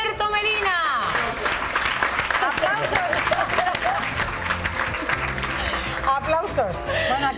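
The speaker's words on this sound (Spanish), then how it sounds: "¡Aplausos!" A television studio audience applauds during a Spanish variety show, with the clapping blending into upbeat music and lively overlapping voices throughout.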